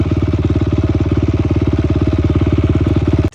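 A Honda CRF 250X dirt bike engine idles close by with a fast, even thumping pulse that stays loud and steady for a few seconds before cutting off.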